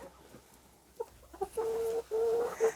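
Amberlink chickens give a few short clucks and then a couple of drawn-out, tonal calls, close and moderately loud against a quiet background, with no talking.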